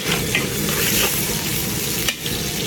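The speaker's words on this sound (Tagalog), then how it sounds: "Magsusunog muna tayo ng bawang." Garlic frying in a pan gives a continuous close sizzle with occasional stirring scrapes, loud and unbroken for the whole stretch.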